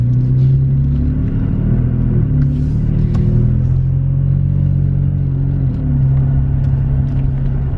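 A Toyota Tacoma fitted with an MBRP exhaust rumbles up close, a loud, deep, steady engine drone with slight rises in pitch as the revs shift.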